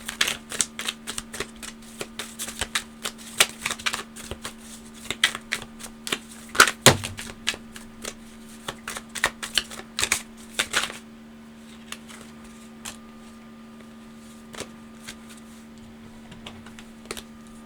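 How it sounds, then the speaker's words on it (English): Tarot cards are shuffled by hand in a riffling, clattering series of quick taps and flutters for about ten seconds before the sound fades to quiet. "I couldn't shuffle cards if you paid me, it looks like,"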